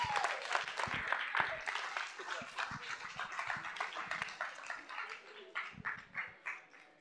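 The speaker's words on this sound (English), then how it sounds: "if we could give our College of Agriculture senators a round of applause." Student government attendees applaud their College of Agriculture senators during a live-streamed university meeting, a faint, distant patter of clapping that thins into separate claps toward the end.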